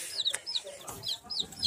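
Newly hatched chicks peep in short, high, repeated chirps, close and fairly soft, with a few irregular bursts over quiet background noise.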